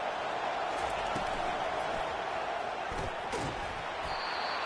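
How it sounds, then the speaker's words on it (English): A loud football stadium crowd roars continuously to help its defense, a dense sustained wash of noise with a commentator's voice faintly over it. "getting loud as this crowd tries to help its defense."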